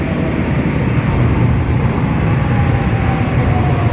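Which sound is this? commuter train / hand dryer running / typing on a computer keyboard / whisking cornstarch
commuter train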